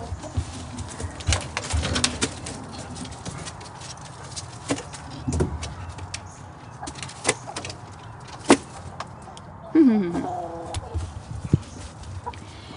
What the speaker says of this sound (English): Hang on, I'm letting the chicks out.